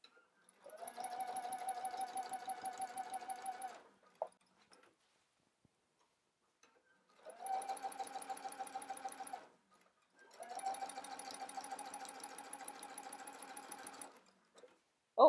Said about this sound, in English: as I'm sewing, I'm just looking at my edge stitch foot